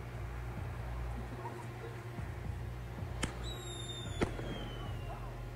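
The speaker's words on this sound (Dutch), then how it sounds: "die fluit die hoor je dus gewoon nog steeds op de grond. En dan gaat dus een knalletje de lucht in." A Thunderking Screen firework with a whistle tube goes off outdoors: a sharp crack, then a high whistle that falls in pitch for about a second, ending in another sharp bang over a steady low rumble.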